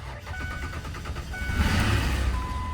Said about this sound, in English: And there we go. Vehicle runs.